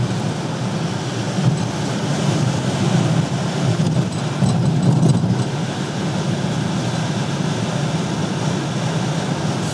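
An electric VW T1 Bulli van drives along and accelerates, giving a steady, loud interior rumble of road and motor noise that swells slightly midway, with no speech.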